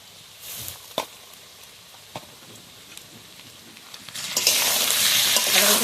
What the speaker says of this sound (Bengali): আদা রসুন বাটা দিয়ে আবার আমি ভালোভাবে কষিয়ে নেব